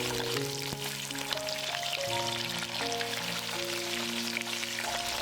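Sea bass fries gently in a pan of oil, producing a continuous crackling sizzle like light rain. The sizzle is close and moderate in level, with faint tones underneath and no one talking.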